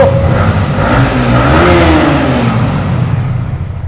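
A Yamaha MT-15 version 2 motorcycle engine revs up in a rising, steady roar close by, climbing in pitch before easing off toward the end, with no talk over it.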